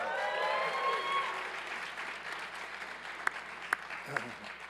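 Steady applause from a crowd at a hardhatting ceremony fills the room, with a few sharp louder claps popping out near the end.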